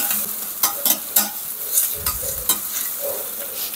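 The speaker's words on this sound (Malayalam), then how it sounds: "എല്ലാം കൂടി നമുക്ക് നന്നായിട്ട് ഇളക്കാം. വെളിച്ചെണ്ണയും നമുക്ക് നന്നായിട്ട് അതിൽ പിടിക്കട്ടെ, ഒന്ന് വഴന്ന് കിട്ടട്ടെ" Upma ingredients stirred and sautéed in coconut oil, a spoon scraping the pan in quick irregular strokes over a soft steady sizzle, close and alone.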